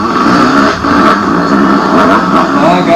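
An enduro motorcycle at the 1987 Hi Mountain Enduro revs hard in a low gear, a loud, close, continuous engine roar rising and falling with the throttle throughout.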